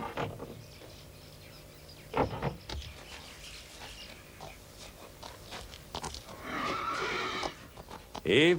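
A pony whinnies in a stable scene from a French film, a loud high neigh late on, with rustling, faint chirps and soft talk around it.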